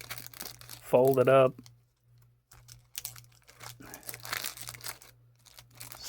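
A Little Trees car air freshener and its plastic wrapper are folded by hand, giving close crinkling and rustling in uneven bursts, with a brief spoken word near the start and a faint low hum underneath.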